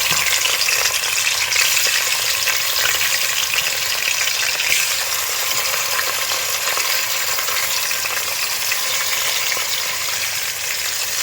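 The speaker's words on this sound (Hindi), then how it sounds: "सारा चिकन डाल के ना हल्का सा 5 मिनट तक फ्राई करेंगे" Chicken pieces frying in a pan for Shinwari chicken karahi: a loud, steady hissing sizzle fills the whole stretch without pause, close up, with no talk.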